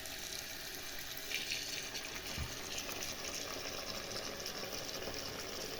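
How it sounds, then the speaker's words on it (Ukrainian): Hot water runs and splashes steadily into a container, a continuous watery rush with faint clatter in the background, no voices. "буду заливати е, гарячою водою, щоб воно подіяло"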